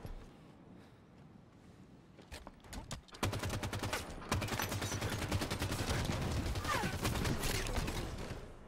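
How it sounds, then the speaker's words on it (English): Halo 5 multiplayer combat: quiet at first, then a few sharp shots build into a sustained loud roar of rapid gunfire and a grenade blast, dense and continuous to the end. "Damn, that grenade didn't get him."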